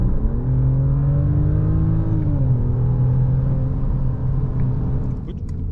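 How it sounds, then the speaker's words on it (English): A Mercedes-Benz S500 long-wheelbase S-Class sedan accelerates on a night drive, its engine a loud, steady low rumble heard from inside the cabin, with the pitch climbing through a gear and settling again. "wanted to try out how it accelerates and how it sounds."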